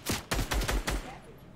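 Bursts of gunfire in Fortnite Battle Royale, several sharp rapid shots in a quick cluster followed by a fading tail, fairly loud and close.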